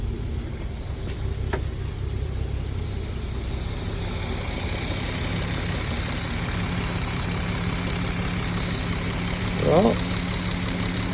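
A steady low engine rumble from a 1973 Mercedes 280C idles continuously, with a brief rising whine near the end; the car is running after 30 years unused and is not getting fuel properly.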